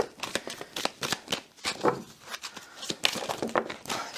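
Close, lively shuffling of a tarot deck, a dense rapid patter of riffles and card slaps lasting several seconds without pause and with no voice over it.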